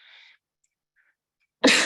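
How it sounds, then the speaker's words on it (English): One sharp, close sneeze bursts out at the end after a short breath and near silence. "I felt that sneeze coming."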